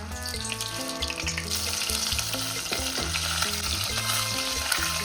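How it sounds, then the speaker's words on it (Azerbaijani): Meat nuggets coated in starch and batter deep-frying in plenty of hot oil, a loud, steady, continuous crackling sizzle with faint stirring throughout. "Və qızğın bol yağda qızardırıq."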